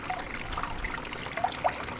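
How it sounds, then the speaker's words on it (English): Water runs steadily through a gold and silver recovery sluice after the flow is turned up, a continuous close trickling and splashing with no talking. "Right now it's looking like I don't have near enough water flow"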